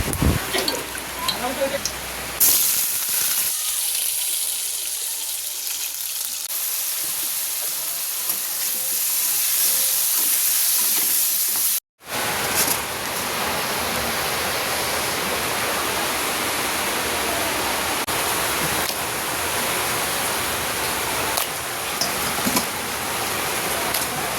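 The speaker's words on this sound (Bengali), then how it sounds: "এখন আমি চলুন আলুগুলো ভেজে নিই।" Potatoes hit hot oil and set off a loud, dense hiss that roars steadily and close, like rushing water, with one short break partway through.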